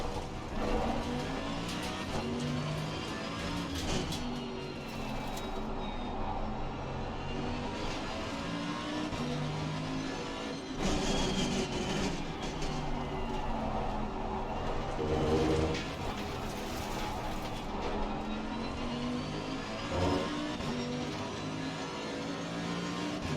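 A GT race car engine in Assetto Corsa Competizione drones and revs continuously through a race, rising and falling with gear changes and acceleration, loud and close with no talk over it.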